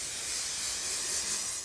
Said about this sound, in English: Spray the carpet.